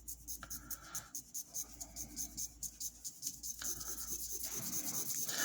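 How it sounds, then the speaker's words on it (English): Graphite pencil tapped lightly on paper during a drawing session, a series of quick, soft ticks and brief scratches close by, with no one talking. "So just a few little taps of the pencil"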